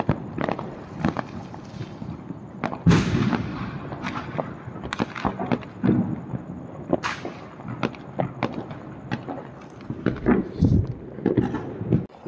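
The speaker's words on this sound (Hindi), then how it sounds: "जहाँ पे सब पटाखे बजा रहे हैं" Firecrackers and fireworks burst outdoors during a Diwali celebration, sharp irregular cracks and bangs near and far, some in quick clusters and others spaced apart, with a hiss of background noise between them.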